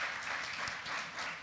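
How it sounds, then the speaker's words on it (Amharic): Audience applause at a question-and-answer discussion event, a steady wash of many hands clapping at moderate distance, fairly faint and continuous without clear individual claps. "ጭብጨባ ለነሱ።"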